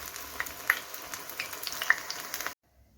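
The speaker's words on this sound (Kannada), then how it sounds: "ಇದೇ ರೀತಿ ಫ್ರೈ ಮಾಡ್ಕೊಳ್ಳೋಣ. ನೋಡಿ ಇದೇ ರೀತಿ. ನಾನಿಲ್ಲಿ ಚಿಕ್ಕ ಬಾಣಲೆ ಇಟ್ಕೊಂಡು ಬೇಯಿಸ್ತಾ ಇದ್ದೀನಿ." Eggplant pieces fry in a small pan, giving a steady crackling sizzle with a few sharper pops, close and fairly quiet, cutting off abruptly into near silence.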